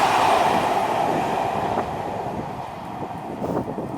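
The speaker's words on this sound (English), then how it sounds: "So that, we've got a train there," A train runs along the railway line near Millhall Road, Stirling, Scotland, its rolling rumble loud and steady at first, then easing back as it passes, with a few faint squeals and clicks of the wheels toward the end.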